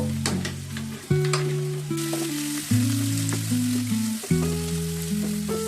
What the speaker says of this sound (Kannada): ಈಗ ಇದಕ್ಕೆ ನುಗ್ಗೆವನ್ನು ಸೇರಿಸ್ಕೊಂಡು ಫ್ರೈ ಮಾಡ್ಕೊಳ್ಳೋಣ.